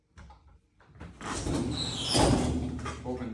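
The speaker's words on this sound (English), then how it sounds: "Open the door." A shielding test chamber door is opened, giving a broad, rising mechanical sweep that builds through the clip, with a faint voice early on.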